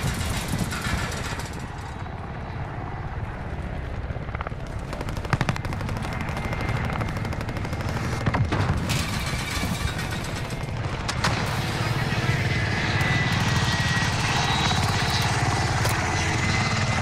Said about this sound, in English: Hostile attack chopper carrying out.